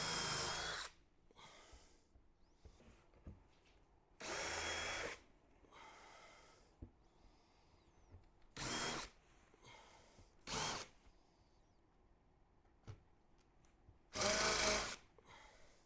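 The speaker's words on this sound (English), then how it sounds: "this is a good time to go ahead and get the countersunk holes set" A power drill bores countersunk holes into a wooden frame for a truck bed box, in several short separate bursts of whirring with quiet gaps between them.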